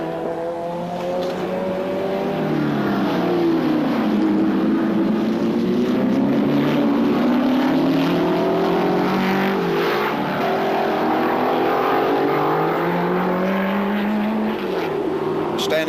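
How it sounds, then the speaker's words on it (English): A 3-litre Desmodromic straight-eight Mercedes-Benz and a Repco Brabham race car passing on a circuit, loud howling engines rising and falling in pitch through gear changes and a Doppler sweep, close and sustained. "this marvellous Desmodromic straight 8 Mercedes Benz, 3 litres of fascinating car"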